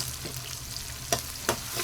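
Asafoetida powder fries in oil over softened tomatoes in a pan for rava kichadi, giving a steady soft sizzle broken by two sharp stirring scrapes from a spoon.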